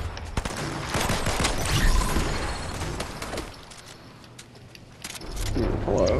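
Rapid bursts of gunfire in the video game Hunt: Showdown crack out loud and close, several overlapping shots in the first two seconds, then sparser reports and a rumbling swell near the end.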